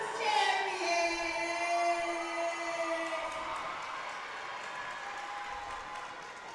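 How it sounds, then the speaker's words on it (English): Crowd applause and cheering for the Douglass Trojettes at a girls' 4A regional basketball game, a loud, sustained wash of clapping in a gym that gradually thins and fades over several seconds. "give a big round of applause for these Douglas Trojettes for their regional conference champions"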